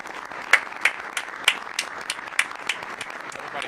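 Sparse applause at a cabinet meeting: a small group of people clapping, with a handful of distinct sharp claps standing out over a steady patter, fairly close and moderately loud.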